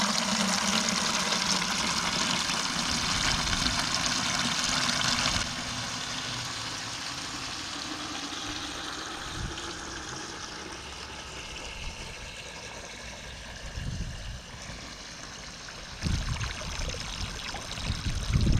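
Water runs from an outdoor spigot through a garden hose into a 5-gallon bucket, a steady loud gushing and rushing close by that softens a little partway through, with no talking.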